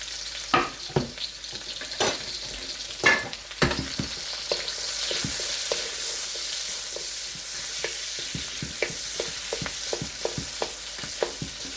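Onions, garlic and ginger fry in bacon oil in a pan, a continuous bright sizzle punctuated by repeated sharp clacks and scrapes of a utensil stirring and breaking up the onion.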